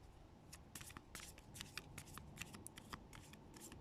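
A deck of tarot cards is shuffled close up, giving a quick run of crisp riffling flutters and soft slaps that repeat steadily for several seconds.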